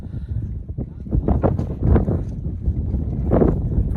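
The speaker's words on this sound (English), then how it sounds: "25-mile-an-hour winds, 50 degrees." Strong wind gusts across an exposed mountain trail near Mount Washington, about a mile and a half above Lake of the Clouds, roaring in a steady, loud broadband rush that swells and buffets the microphone throughout.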